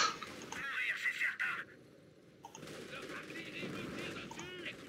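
Gunfire from a 4v4 match of the strategy game Company of Heroes, with bursts of rapid shots and machine-gun rattle mixed with battle noise that drops briefly before picking up again; someone talks over it.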